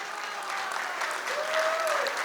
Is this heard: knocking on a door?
no